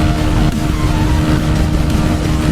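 A Honda CBR 125 motorcycle rides along the motorway, its engine holding a loud, steady drone mixed with rushing wind for the whole stretch, with no talking.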